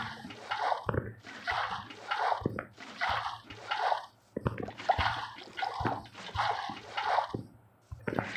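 Water emptied from buckets onto blocks in Minecraft, a string of short splashing bursts repeating at a fairly steady pace, close and clear.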